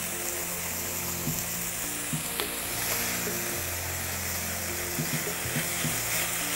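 Mushrooms sizzle in a pan as sweet soy sauce reduces, a soft continuous frying hiss with occasional light clinks and stirring sounds.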